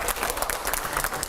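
A studio audience briefly bursts into close, lively clapping to welcome guest Mahmood Madani, a former Rajya Sabha MP and Muslim scholar.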